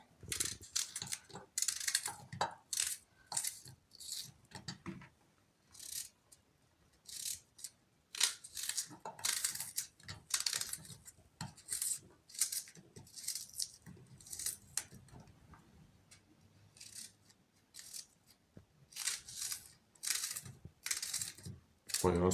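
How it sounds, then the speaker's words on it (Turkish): Quick, crisp knife chops through onions land on a cutting board in irregular bursts, close and fairly quiet, with brief pauses between runs. "Soğanları doğrayacağım."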